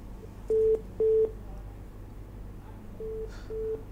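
After a phone call is cut off, short telephone tones beep at steady pitch, two clear pulses then two fainter ones, over low background hum.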